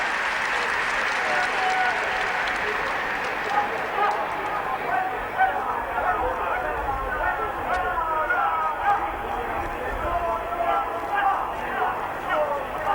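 Stadium crowd applause at the 1978 World Cup opening ceremony in Argentina, a steady distant wash of clapping and crowd noise lasting throughout, with a commentator's voice faintly over it.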